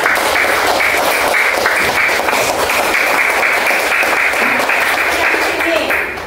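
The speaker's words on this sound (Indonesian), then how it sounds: "Tepuk tangan untuk Salsabila." Classroom pupils applaud a classmate who has worked a multiplication problem at the front, giving a dense, loud, steady patter of clapping that runs several seconds with voices mixed in.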